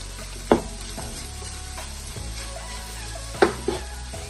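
Dosa kothu roti made from leftover dosa is sautéed in a pan with a constant sizzle, broken by a few sharp spatula scrapes and taps.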